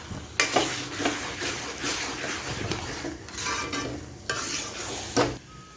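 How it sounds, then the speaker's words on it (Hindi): Grated carrot halwa being stirred in ghee in a pan, a steady scraping, sizzling churn with repeated spoon clanks against the metal, close and continuous without talk. "तो देखिए किस तरह से मैं गाजर के हलवे को चला रही हूँ।"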